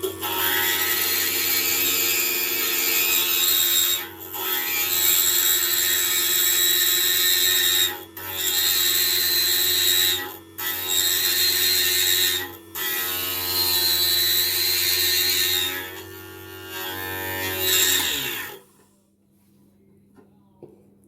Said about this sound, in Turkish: Bakın camı tertemiz bir şekilde zımparaladık